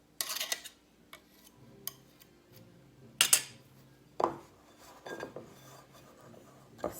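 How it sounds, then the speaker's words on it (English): A knife scraping softened butter off into a mixing bowl, several short scrapes and clinks of metal against the bowl, close and quiet, spaced irregularly with pauses between. "I'm going to take a knife, or you could use a spatula to scrape the butter off"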